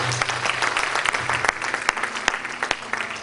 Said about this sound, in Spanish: Denle fuerte aplauso a Jesús en esta hora.